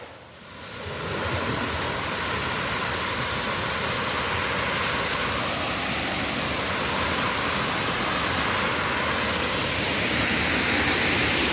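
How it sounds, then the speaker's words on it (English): Salto del Tequendamita waterfall roaring as a dense, constant broadband rush that swells in over the first second and then holds steady and loud, with no voices. "So that right there is Salto del Tequendamita, which is a waterfall."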